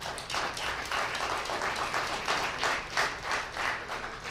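Audience applause at a mayor's luncheon, a steady wash of many hands clapping for several seconds, moderately loud and fairly close, with no talk over it.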